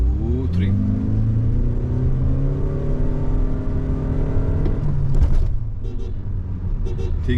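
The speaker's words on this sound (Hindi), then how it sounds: "स्पोर्ट्स मोड लगाते ही और ज्यादा उड़ने लग गई है ये। एक बार फुल एक्सेलरेट करेंगे" A Toyota Innova Hycross ZX in sport mode accelerates flat out, its engine drone loud and close, climbing steadily in pitch for several seconds before easing off.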